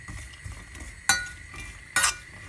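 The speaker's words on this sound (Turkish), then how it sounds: "Cevizi de ekliyorum. Bir iki dakika zeytinyağı da kavurup" Walnuts toast in olive oil in a pan, a low sizzle underneath two bright metallic clinks of a utensil against the pan about a second apart.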